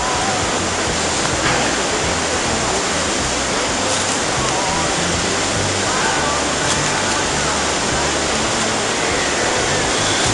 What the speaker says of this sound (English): You can see the waterfall start down there.